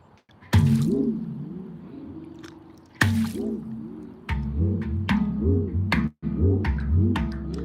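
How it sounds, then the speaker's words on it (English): A handpan lowered into water gives off several separate struck notes, each sharp attack trailing into a wobbling, watery tone. The hits are spaced irregularly, loud and close, with short quiet gaps between them. "And then if you just drop it in the water, it makes some cool sounds too."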